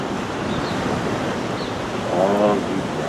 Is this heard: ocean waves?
yes